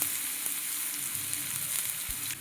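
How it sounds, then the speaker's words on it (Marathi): Chopped onions hit a hot pan already crackling with mustard seeds and cumin, giving a steady, close, hissing sizzle with no voices. "आता आपण चिरलेले 2 कांदे जे होते ते तव्यामध्ये टाकून घेणार आहोत।"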